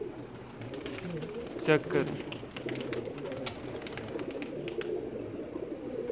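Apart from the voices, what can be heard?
flock of pigeons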